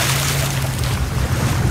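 PowerSki JetBoard motorized surfboard running on open water in Australia, a steady loud engine drone with a low hum, mixed with rushing water and wind noise throughout.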